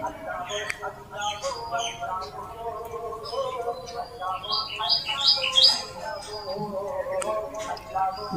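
A common tailorbird calls among other small birds, a series of sharp high chirps and twitters around the middle, with someone talking quietly underneath for most of the time.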